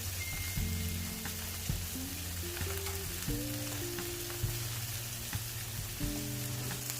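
Brioche burger buns toasting on a hot flat top griddle give a steady soft sizzle throughout, with scattered light clicks and a faint tonal hum underneath, no voices.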